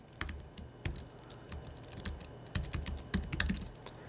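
Client names typed on a computer keyboard, a quiet, irregular patter of close key clicks with short bursts and brief pauses, no voices.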